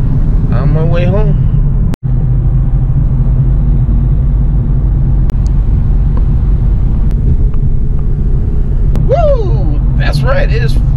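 Inside a moving Chevy SS, a steady, loud low engine and road rumble fills the cabin throughout, with a brief dropout early and faint chirping bird-like sounds near the start and end.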